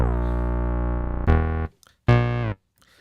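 A Doepfer A-111-6 mini synth Eurorack module plays a simple sustained tone with rich harmonics, loud and close, then two shorter notes separated by brief silences.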